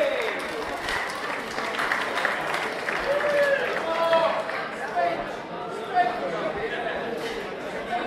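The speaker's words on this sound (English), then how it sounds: "There you go, round of applause for them." Audience applause at an award evening for retailer award winners, a steady crowd clapping over several seconds with chatter and voices mixed in beneath it.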